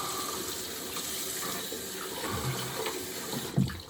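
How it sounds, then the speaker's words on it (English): A sink tap runs steadily nearby while hands are wet and washed under it after a shave, with a continuous splashing stream and a few brief knocks near the end. "Just get my hands wet"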